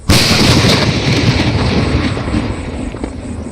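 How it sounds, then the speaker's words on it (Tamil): A loud thunder firecracker bursts at night with a single sharp, booming blast that rolls off into a long, fading rumble and echo. "இடி அவுட்டை நைட்டில் வைக்கக்கூடாதுன்னு நினச்சேங்க."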